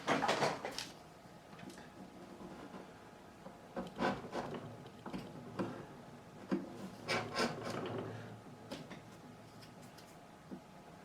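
A blade and small saw scrape old glue out of the fret slots on a Gretsch G5422 12-string guitar neck during a refret, giving irregular, close, dry rasping strokes in short bursts with quiet pauses between.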